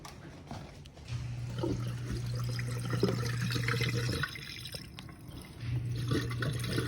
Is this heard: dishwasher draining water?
yes